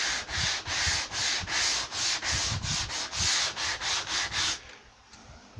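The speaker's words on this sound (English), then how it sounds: "So you have to sand at an angle." Sandpaper rubbed by hand across MDF cupboard tops, a steady run of rhythmic back-and-forth scraping strokes, close and fairly loud, which stops near the end and leaves near silence.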